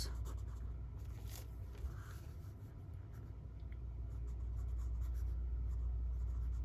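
A pen scratches softly across the page of a Bible journal, faint strokes over a steady low background hum, with no talk.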